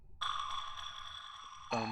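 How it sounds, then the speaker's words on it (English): Submarine-style synth blips made in FL Studio for a jungle/drum and bass track: a sustained bright, buzzy electronic tone with a second sharp blip near the end, heard alone without talk. "Little blips here and there."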